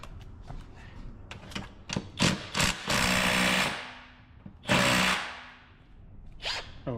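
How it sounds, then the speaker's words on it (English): A power tool, likely an impact driver, spins off the big 15 mm shear plate bolts on a Tesla in a home garage, with several short buzzing bursts, then two longer loud whirring runs separated by pauses, close by. "Now I swap over for a 15 to get the"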